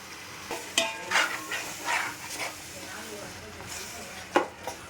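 Chicken masala with tomatoes and rock salt being stirred in a pan, giving scattered scraping and wet clattering strokes over a low sizzle, with a sharper knock near the end.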